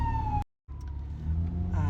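A steady wailing siren with a strong low engine rumble, cut by a brief silent gap, then resuming with a rising wail near the end.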